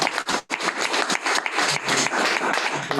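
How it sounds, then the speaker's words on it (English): Audience applause for a minister at a board inauguration meeting, dense continuous clapping from a group, close and loud, steady for several seconds. "Please, can we give a round of applause to the Honorable Minister?"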